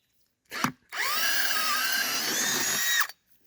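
A DeWalt power drill bores into a wooden railroad tie, with a brief blip and then a sustained, whining run of about two seconds that rises slightly in pitch; close and fairly loud, with no talking.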